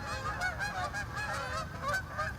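A flock of geese honks loudly overhead, repeated overlapping calls over a steady low rumble for the whole stretch.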